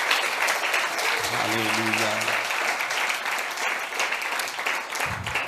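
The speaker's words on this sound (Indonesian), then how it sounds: "Beri tepuk tangan buat Tuhan kita." A church congregation applauds in worship, with broad, continuous clapping from many people and a voice calling out briefly partway through.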